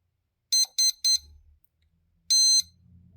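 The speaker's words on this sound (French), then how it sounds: "cette dernière tonalité indique que l'opération est terminée" An electronic speed controller's throttle calibration confirmation: three short high electronic beeps in quick succession, a pause, then one longer beep of the same pitch, loud and clear against a quiet low hum.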